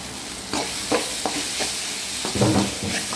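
Okra stir-fry sizzles steadily in a pan, with a run of scraping, clattering stirs breaking through the hiss at irregular intervals, close and fairly loud.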